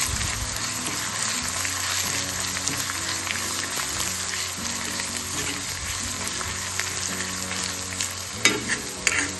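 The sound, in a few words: radish being sautéed in a pan with garlic, asafoetida, cumin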